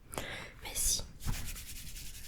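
Hands rubbing through hair during a scalp massage, a soft close brushing friction in a few bursts, with faint whispery sounds between them.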